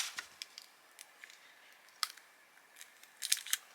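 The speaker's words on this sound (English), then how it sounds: "take the corner off here and just peel that back" Cut vinyl is peeled back from a Cricut cutting mat, giving a sparse run of short, crisp crackles and ticks close by, with a denser cluster near the end.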